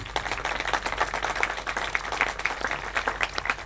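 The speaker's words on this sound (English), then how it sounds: "give them a round of applause" Steady, dense applause from an audience at a Small Business Administration ribbon cutting ceremony, a continuous close crackle of many hands clapping throughout.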